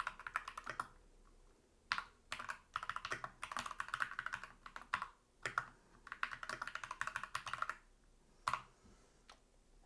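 Typing a SQL query on a computer keyboard: close, crisp bursts of rapid key clicks separated by short pauses, quiet and steady with no talking.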